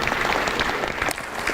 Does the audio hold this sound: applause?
yes